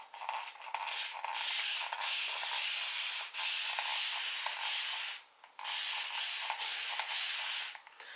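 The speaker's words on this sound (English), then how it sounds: "Use my spray bottle." Spray bottle misting warm water onto 4c hair, a steady close hiss of sprays running almost continuously with two brief pauses, no talking.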